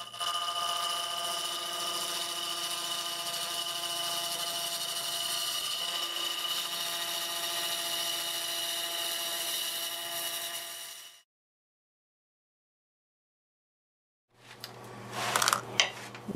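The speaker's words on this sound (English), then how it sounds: "About 860 RPM, freshly sharpened half inch bowl gouge." Wood lathe turning a bowl at about 860 RPM with a freshly sharpened half inch bowl gouge, a steady whining hum and cutting hiss for about eleven seconds, then silence before a short burst of scraping resumes.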